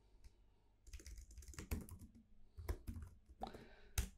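Quick keystrokes on a computer keyboard, close and fairly quiet, in uneven bursts of clicky taps with a heavier thump or two, no talking.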